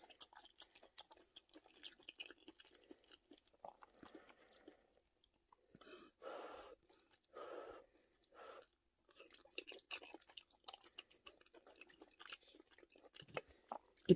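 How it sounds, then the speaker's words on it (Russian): Close, wet chewing and crunching of a hot dumpling, the loud smacking coming in bursts with short pauses, while quiet background sounds continue around it. "Ты попробуй тут не чавкать, да? Горячая."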